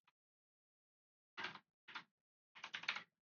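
Short bursts of typing on a computer keyboard, a single tap then three quick clusters of key clicks separated by pauses, close and quiet with no voices.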